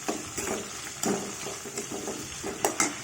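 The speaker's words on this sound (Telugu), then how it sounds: "కొంచెం వేగనిద్దాం." Eggplant and tomato curry frying in a pan, a steady sizzle broken by repeated scraping stirs and small clinks of a spoon against metal, close and continuous.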